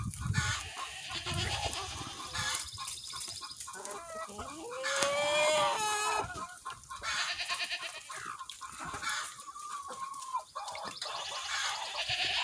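Backyard coop chickens cluck and cackle steadily, with a rooster crowing loudly partway through, the calls rising and falling close by; no talking is heard.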